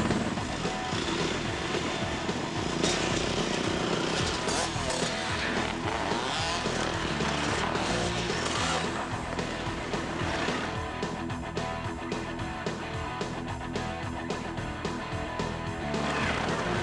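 An ATV riding an off-road dirt trail, engine roaring loud and steady throughout, close to the microphone with constant rumbling and wind buffeting.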